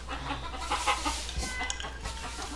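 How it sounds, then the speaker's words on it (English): Backyard chickens clucking softly at moderate distance, a few scattered short clucks and murmurs over a low steady background hum, ending with a brief close knock. "Even your fucking chickens are laughing at you."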